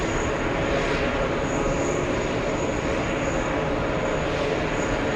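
An Alaska Airlines jet in special livery arrives from Seattle at JFK Airport, its engines giving a loud, continuous roar that holds steady and close for the whole stretch, with no voices.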